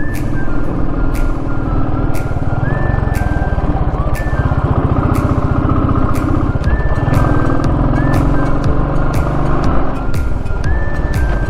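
A motorcycle rides a rough two-kilometre village road on the way from Mumbai to Bhimashankar, its engine droning loudly and continuously with rhythmic ticking and bumps throughout.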